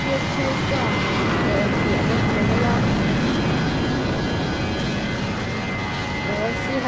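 Airliner taking off in the Roblox PTFS flight game, with a steady, loud engine roar and rushing whine that holds evenly throughout, and talk running over it.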